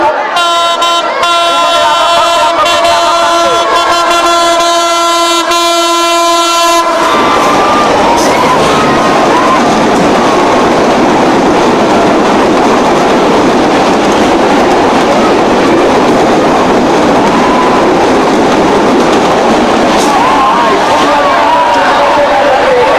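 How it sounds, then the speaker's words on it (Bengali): A train rolls past close by a football tournament final, a long horn blast at the start giving way to a steady roar of wheels and rattling carriages, with a crowd audible underneath. "ট্রেন ঢুকছে, আমরা সবাই"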